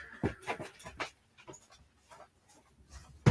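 A dog pants nearby in quick, soft, breathy bursts with brief pauses and a faint whimper, fairly quiet and alone.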